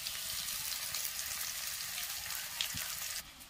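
Onions fry in a pan with a steady, even hiss of sizzling oil, close and continuous, and a single faint knock near the end.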